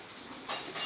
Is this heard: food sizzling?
yes